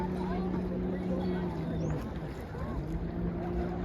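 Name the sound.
jet ski riding on water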